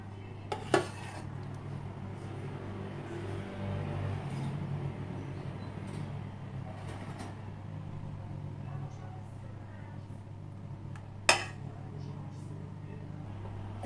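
A spoon clinks against cups while sauce is spooned onto strawberry milk pudding: two sharp, isolated clinks over a steady low hum, with faint handling noise in between.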